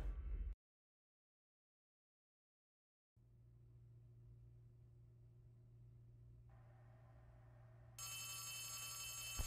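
A telephone ringing inside the Poppy Playtime Chapter 3 video game, a steady electronic bell-like tone that starts after a brief silence and sustained drone, then turns louder and brighter near the end, with no speech.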